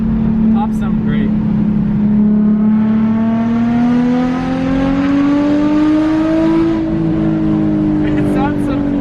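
A loud Nissan 350Z with a rough, obnoxious exhaust revs hard and holds at high RPM, its droning engine note climbing steadily in pitch over about nine seconds with no break in the sound.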